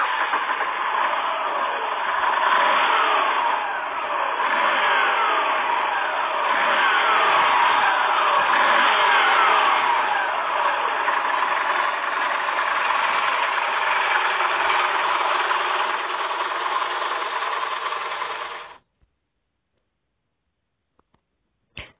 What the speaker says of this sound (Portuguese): A próxima moto que eu vou mostrar pra vocês é a Moto Guzzi V9